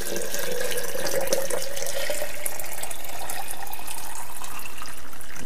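Warm water pours into a vacuum bottle inside a canvas tent while winter camping, a close, loud, continuous gurgling stream lasting several seconds.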